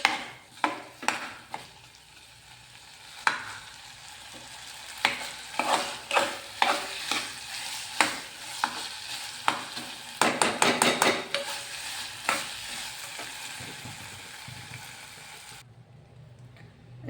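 A dry vegetable curry stirred and fried in a pan, a steady sizzle under repeated sharp spoon scrapes and knocks against the metal, close and busy, ending abruptly in near silence.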